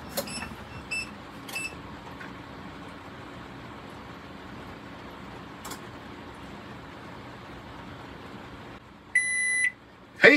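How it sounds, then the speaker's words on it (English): A microwave oven powered through an inverter in a kitchen being built runs with a low steady hum, then gives a few sharp electronic beeps near the end. "let's see if our microwave functions"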